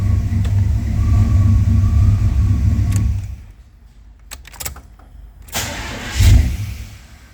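A Chevy OBS C1500 with throttle-body injection runs rough and rich, its engine loud and steady for about three seconds before cutting out, then a few irregular coughs and a brief sputtering surge as it stumbles.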